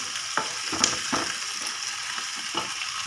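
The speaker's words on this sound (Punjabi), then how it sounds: "ਪਿਆਜ਼ ਥੋੜੇ ਗੋਲਡਨ ਬ੍ਰਾਊਨ ਹੋ ਚੁੱਕੇ ਆ ਤੇ ਹੁਣ ਆਪਾਂ ਇਹਦੇ ਵਿੱਚ ਪਾਵਾਂਗੇ ਇੱਕ ਕੱਟਿਆ ਹੋਇਆ ਟਮਾਟਰ" Golden-brown onions with a chopped tomato sizzling in a pan, steady frying hiss broken by a few soft stirring scrapes and clicks, no talking.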